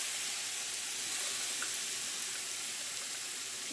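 A chopped nut and mushroom mixture sizzles in a hot skillet with a constant bright hiss, close and even, with faint pops and no voices.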